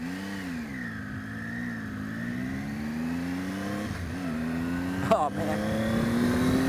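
A 2018 Triumph Tiger XCa motorcycle engine accelerating on the road, its pitch sweeping up and down through the gears with a brief rise near the end, while a rider talks over it.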